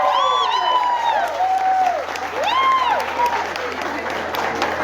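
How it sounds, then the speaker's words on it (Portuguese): Crowd applauding at a podium ceremony for a street race, steady clapping and cheers throughout while a voice talks over the crowd. "uma salva de palmas mais uma vez"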